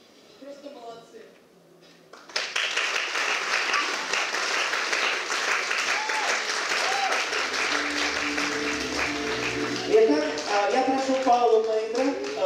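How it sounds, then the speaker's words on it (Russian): An audience at a gala concert bursts into sustained applause after a quiet start, steady clapping filling the room while a voice speaks over it. "Мне очень приятно, что я слышу ваши аплодисменты."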